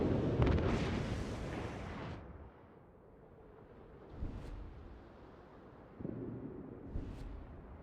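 Naval gunfire from battleships in the video game World of Warships, with Colorado-class battleships firing: a heavy booming rumble up front, then two more distant bursts with a short crack, alone without talk.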